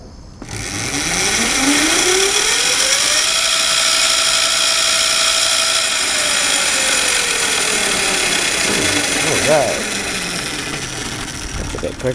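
An Ariel Atom go-kart engine whines as it accelerates in second gear, a loud, sustained buzzing drone that rises in pitch, holds, then eases off near the end, heard close and alone.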